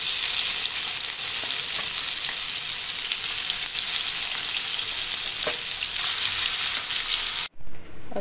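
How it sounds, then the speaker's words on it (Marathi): Ground coconut, garlic and peanut masala hits hot oil in a pan, giving a steady, close, loud sizzle with faint stirring ticks, cutting off abruptly near the end. "हा वाटून घेतलेला मसाला आपण या तेलात टाकूया."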